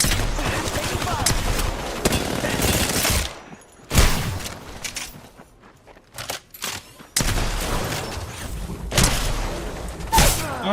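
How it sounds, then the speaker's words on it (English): Rapid bursts of gunfire in a competitive shooter match, loud and dense in the opening seconds, dropping to sparse thumps and clicks midway, then resuming heavy volleys; voices talk over it. "Taking fire."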